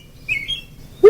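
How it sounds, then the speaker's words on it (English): A robin from a Birding by Ear recording sings a brief high chirping phrase, clear and fairly close, with a louder note cutting in at the end. "I had to learn the robin, but here's a robin."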